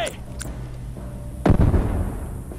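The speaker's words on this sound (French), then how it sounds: "Bombe" A bomb blast in a 1-vs-5 tactical shooter match on a water tower map booms suddenly and loudly about midway, its rumble trailing off, after a few light pops and under steady game ambience.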